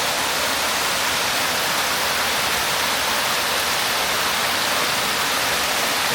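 Water pours over a small dam in a loud, unbroken rushing roar that stays constant throughout, with no voices heard.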